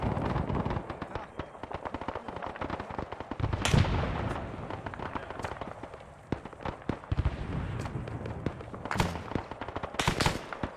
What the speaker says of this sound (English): That's the anti-aircraft gun firing.